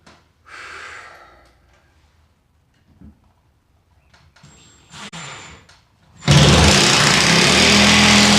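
A power drill drives a screw through drywall into wood while a French cleat is mounted, a loud, steady whirring burst that holds for the last couple of seconds after quieter handling noises.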